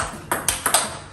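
Table tennis ball struck with a paddle faced in Tibhar Evolution FX-D rubber, four crisp, bright pings spaced unevenly over about a second, close and clear with no talk.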